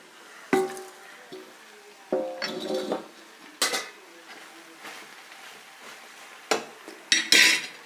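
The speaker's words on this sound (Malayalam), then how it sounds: "പകുതി മൂപ്പായ സവാളയിലോട്ട് നമ്മൾ വെട്ടിയരിഞ്ഞ് വെച്ച പയറും ക്യാബേജും പച്ചമുളകും കൂടി ഇട്ടുള്ളൂ" Chopped beans, cabbage and green chilies tipped into half-browned onions in a pan and stirred, heard as scattered metallic clinks, knocks and scrapes of a spoon against the pan, close and intermittent, without talk.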